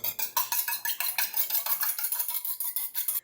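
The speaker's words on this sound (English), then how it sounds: "I'm going to whisk the egg" A whisk beats an egg in a bowl, fast rhythmic metallic clicking and scraping strokes, steady and close for several seconds without talk.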